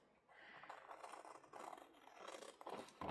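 Paper card being cut out with scissors for large altered handmade cards, a run of close, quiet snipping and scraping strokes repeating for a few seconds with no talk.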